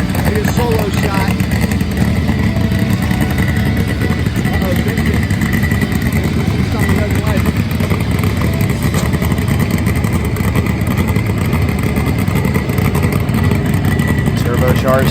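A turbocharged Suzuki Hayabusa drag motorcycle runs at a drag strip in Fontana, California, its engine a loud, steady roar under continuous announcer commentary.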